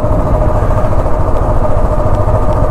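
Motorcycle engine during a ride near Kalimpong, a loud, steady low rumble close up with road and wind noise and no talking.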